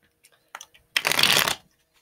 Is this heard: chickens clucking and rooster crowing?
no